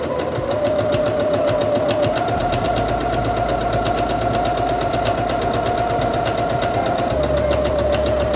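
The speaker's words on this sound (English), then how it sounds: "press and hold the reverse button to sew backwards a few stitches. and release the button and continue sewing." A Singer Quantum Stylist 9960 sewing machine hums steadily and evenly throughout, a close, continuous motor drone with no pauses and no voices.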